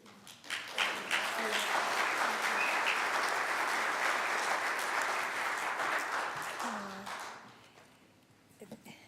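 Audience applause for a speaker at a Center for Spiritual Living service, a sustained dense round of clapping that swells, holds steady for several seconds, then fades out near the end.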